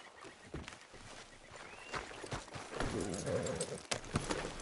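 A horse walks along in the Red Dead Redemption 2 video game, its hooves clip-clopping in an uneven rhythm close by, with faint voices and ambient game sound around them.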